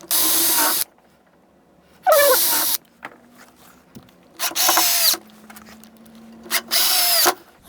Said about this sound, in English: it's again just a simple matter of drilling and inserting screws